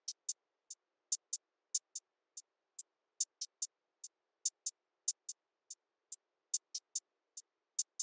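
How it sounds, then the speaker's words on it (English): Crisp programmed hi-hats in a dark FL Studio beat tick in a fast, steady pattern with varied velocity, clean and isolated with nothing else playing. "So I used the hi-hats to drive the rhythm."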